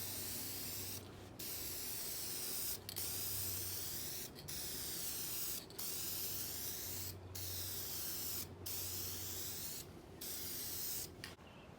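Spray can misting a light coat of paint onto plastic car parts on a CRX, a continuous close hiss broken by short pauses between passes, with a low background hum throughout.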